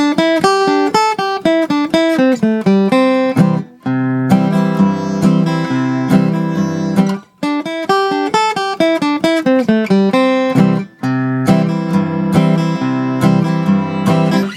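An acoustic guitar alternates single bass notes with quick down-up strums, repeating a steady pattern of chord changes with brief pauses between phrases.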